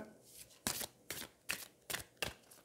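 Oracle cards being handled and shuffled, giving five or six crisp, close papery riffles in a steady rhythm, with no talking over them.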